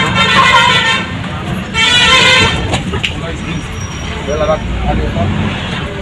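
Road traffic heard from inside a vehicle, with horns honking repeatedly and a steady roadway rumble close by, while people talk throughout.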